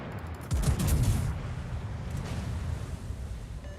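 A battleship in World of Warships fires a full salvo, a loud rolling burst of gunfire that booms and then fades into a long rumbling tail. No voice is heard.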